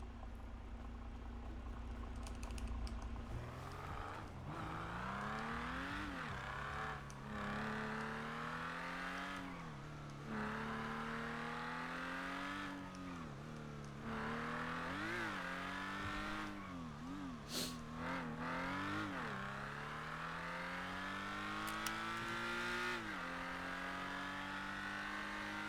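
A car in a video game drives and revs, its engine tone climbing and dropping through repeated gear changes, with short bursts of acceleration and brief lifts, steady and close throughout.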